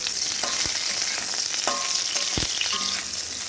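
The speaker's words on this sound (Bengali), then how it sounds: "তেল গরম হওয়ার পর এই তেলে ভাপিয়ে রাখা ফুলকপিগুলোকেও দিয়ে দিলাম একটু হালকা করে ভেজে নেব ফুলকপিগুলো" Steamed cauliflower fries in hot oil in a wok, giving a steady, close crackling sizzle throughout with a few soft clinks of utensils against the pan.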